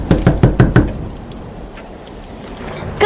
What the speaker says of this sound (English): disguise herself as a farmer's wife, and knock on the door.